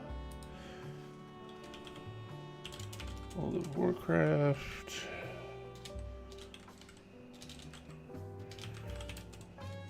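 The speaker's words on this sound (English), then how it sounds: "Man, what is with my typing tonight?" Computer keyboard typing during a gaming stream, quick irregular clacking keystrokes close to the mic, with someone speaking briefly over them partway through.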